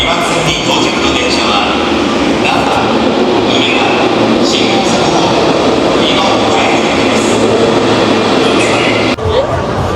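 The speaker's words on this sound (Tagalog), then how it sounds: "So ayan na yung train" A train pulling into a station in Osaka, loud continuous rumble and rolling wheel noise with faint squeals and clatter, heard close up as a steady roar over ten seconds.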